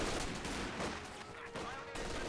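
Light machine gun fire from Company of Heroes 2 comes in quick overlapping bursts of gunfire, mixed with other battle noise at a moderate level and heard alone.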